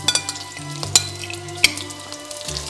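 Green chilies fry in hot ghee in a wok with a close, crackling sizzle, punctuated by a couple of sharp spatula clanks and scraping stirs.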